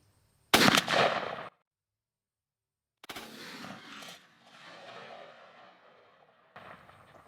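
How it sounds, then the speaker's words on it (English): A Patternmaster Code Black choke shotgun fires a TSS turkey load at a target outdoors: one loud close blast with a short echo, then a pause, followed by rustling and movement noises. "Shoot the left target, then we'll go down there and compare them"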